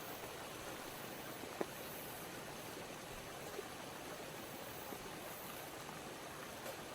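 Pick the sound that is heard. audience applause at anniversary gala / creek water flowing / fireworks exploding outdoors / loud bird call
creek water flowing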